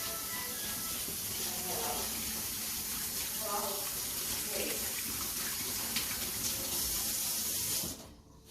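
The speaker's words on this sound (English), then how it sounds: "you see I'm washing my hands" Hands washed under a running kitchen tap while making lemon bars, a steady hiss of flowing water with splashing changes, close, ending abruptly as the tap shuts off.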